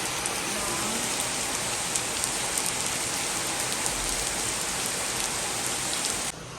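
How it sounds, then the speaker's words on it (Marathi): Heavy rain pours steadily onto a Pune balcony during a thunderstorm, a dense, loud, continuous hiss of drops hitting the surface that holds unbroken for several seconds before easing slightly at the very end. "आमच्या बाबा गॅलरीपर्यंत पाऊस येतो"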